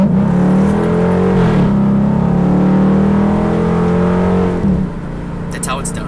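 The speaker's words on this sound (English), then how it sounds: "Nothing like a great V8 pull." A Dodge Charger R/T V8 roars loudly under hard acceleration, its deep engine note climbing in pitch, dropping briefly at two gear shifts, then easing off near the end.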